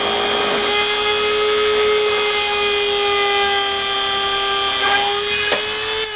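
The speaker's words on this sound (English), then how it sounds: "I go ahead and have my Dremel, and I drill my first guide hole" A Dremel rotary tool drills a guide hole while building a pool-noodle RC trainer airplane, a steady, loud high-pitched whine holding a constant tone throughout with a slight dip near the end.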